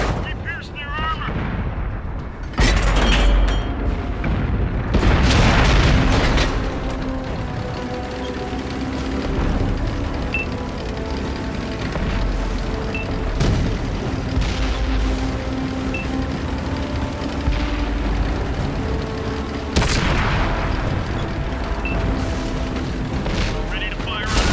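Tank cannon fire in the World of Tanks console game, with a few heavy booming shots over a steady engine rumble while a crew voice talks in between.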